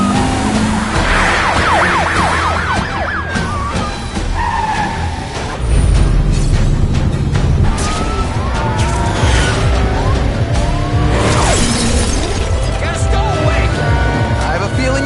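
Cars race through city streets in The Amazing Spider-Man 2 game, with engine roar, tyre skids and wailing sirens weaving through a loud chase, while a voice talks over the action.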